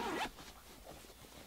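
Quick unzip of a recessed zipper on a fabric lunch bag made of quilting cotton, one short rasping pull at the start followed by faint fabric rustling, close and quiet.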